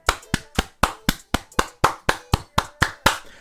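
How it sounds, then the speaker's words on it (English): Slow, deliberate hand claps, about fourteen evenly spaced sharp claps ringing out close and alone, with no talk. "Round of applause"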